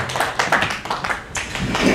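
A conference audience at a network operators' meeting gives brief scattered clapping that mixes with a talking voice, a short irregular patter of hands.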